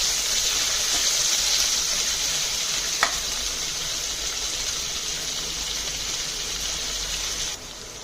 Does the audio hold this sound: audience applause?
no